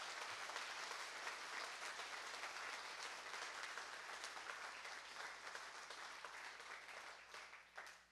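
An audience in a church or fellowship gathering claps in honor of veterans, a quiet but dense, even round of applause that holds throughout and thins slightly near the end.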